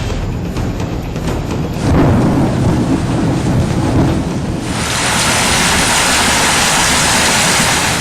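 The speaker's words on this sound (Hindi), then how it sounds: "बारिश रुकने का नाम नहीं ले रही" During flooding in Barmer, heavy rain pours down without pause amid rolling thunder, while a rushing, windy roar of water swells and then holds steady as a broad, loud wash. No voices can be heard.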